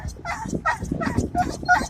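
A dog named Toofy at a dog park lets out a run of hoarse, barking yelps in quick succession, five or so bursts close to the listener with a seal-like honking quality, while a person talks over them.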